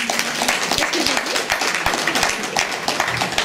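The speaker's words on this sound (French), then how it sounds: "Je vous prie de l'applaudir, s'il vous plaît." Audience applause at a debate conference, steady crowd clapping with distinct sharp hand claps standing out through the dense wash, fairly loud and continuous.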